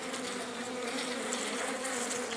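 A dense, steady buzz of honeybees fills the space around an open wooden hive frame being handled, loud and continuous with no pauses.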